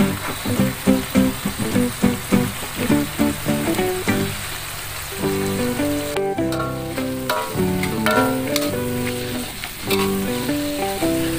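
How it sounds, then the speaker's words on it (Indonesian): Water and soy sauce poured into a hot frying pan of tofu or jengkol dish, producing loud, steady sizzling and bubbling with rhythmic stirring scrapes at first, close up with no talking. "Kita masukkan air ya, secukupnya ya guys, kita kasih air"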